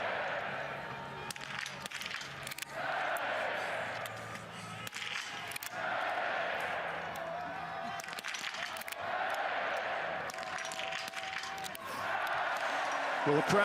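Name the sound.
biathlon spectators cheering after great shooting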